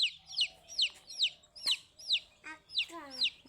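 Repeated high chirping from chicks, several peeps in a steady rhythm, with a few soft lower clucks from a hen close by.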